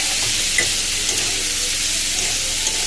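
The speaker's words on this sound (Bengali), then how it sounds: "এই যে এখানে উচ্ছে আলু ভাজা হচ্ছে" Bitter gourd and potato slices fry in a pan with a steady, dense sizzle of hot oil, close and continuous with faint stirring scrapes throughout.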